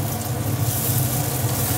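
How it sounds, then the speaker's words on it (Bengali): Potatoes and pumpkin stems fry in a pan, a continuous close sizzle lasting a couple of seconds with no voices. "এবার ভাজা ভাজা করে নেবে এগুলো।"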